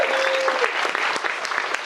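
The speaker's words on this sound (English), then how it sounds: "So round of applause for the flowers." Quick applause from wedding guests during a reception speech, brief steady clapping from the room with a faint voice at the very start.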